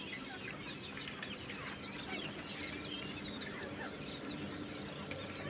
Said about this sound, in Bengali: খুবই সুন্দর মানের কিংকোয়েল পাখি আছে, বাচ্চা আছে।